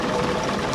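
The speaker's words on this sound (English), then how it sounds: "it's just sort of an earlier engine fitted to it, and they do sound nice" An earlier Leyland diesel engine idles in a DMU railcar, a steady, close, rumbling drone heard alone for under a second.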